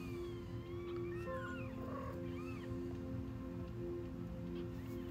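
Several small kittens mew in thin, high, wavering cries over a steady low indoor hum, the calls scattered and overlapping at moderate distance with no talking.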